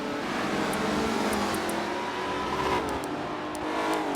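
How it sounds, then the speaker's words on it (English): A 1994 Mustang race car engine roars steadily under load in a video game race, a continuous revving drone with faint clicks on top and no talk. "So Zip Plant in that 94 Mustang just ahead of him"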